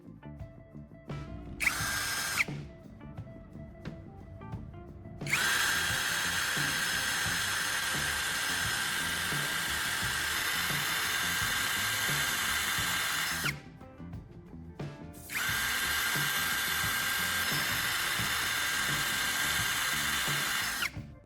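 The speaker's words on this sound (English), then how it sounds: "My next step is to drill this charging port hole a little wider." A small power drill bores out the charging port hole of a plastic phone charger shell, with a few brief starts and then two long, steady high-pitched whining runs separated by a short pause.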